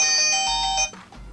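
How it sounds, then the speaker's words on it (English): An HW22 Pro smartwatch sounds its search-device alarm, a bright electronic ringtone of steady high tones that rings loud and close for about a second, then drops away. "it basically has a little alarm"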